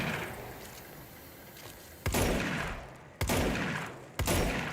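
Gunshots fired at a target on a timed shooting course in the Control video game: three sharp, loud blasts spaced about a second apart, each trailing into a ringing echo over a steady background hum.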